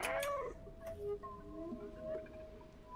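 In the Stray video game, a cat gives a few soft, drawn-out mewing calls amid low ambient hum and scattered clicks, fairly quiet and distant.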